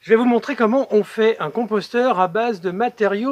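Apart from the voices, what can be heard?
No everyday noise stands out behind the speech.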